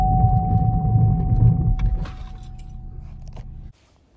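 A car brakes hard from about 23 mph on snow during a winter tire test pitting Bridgestone Blizzak against Cooper CS5 Ultra Touring, heard from inside as engine and road rumble fade, crunching and rattling briefly, then falling silent as it stops.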